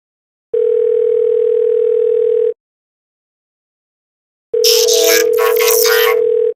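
Telephone call ringback, two long steady electronic tones separated by silence, the call going unanswered; the second tone carries a burst of bright noise over it.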